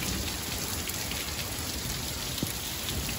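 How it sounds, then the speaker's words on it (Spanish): Heavy winter-storm rain at night in the San Fernando Valley of Los Angeles pours as a dense, steady hiss of drops striking surfaces, continuous and close, with no voices. "Se ha calmado un poco esta lluvia, pero estuvo bastante pesada la lluvia."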